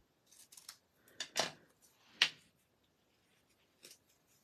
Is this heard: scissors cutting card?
yes